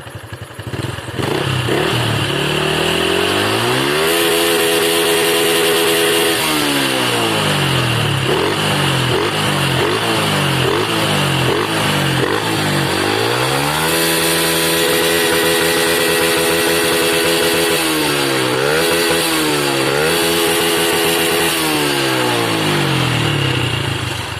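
A loud Honda Wave 110i motorcycle engine, started after sitting a month, revving repeatedly with a quick rev limiter cut, rising and falling in pitch with a rough, buzzing tone, close by and continuous.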